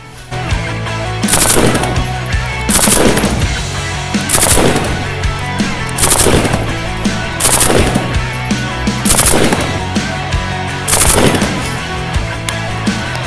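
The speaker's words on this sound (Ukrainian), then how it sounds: "Давайте спробуємо ще кілька пострілів" An M249 machine gun fires in short, evenly spaced bursts, about seven of them, loud and close, with a low steady hum between bursts.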